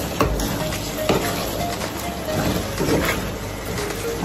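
Pork and ampalaya with oyster sauce are stirred in a pan, with repeated scraping strokes over a steady low sizzle, close and fairly loud, and no clear speech.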